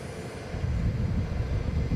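An airplane rumbles past behind a fence in a flight simulator game, a low, steady roar that swells slightly, heard alone at moderate distance.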